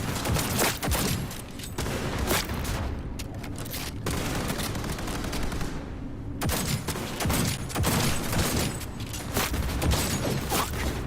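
A volley of gunfire, dense sharp shots crackling rapidly and loudly for several seconds, broken by a short lull before the firing resumes.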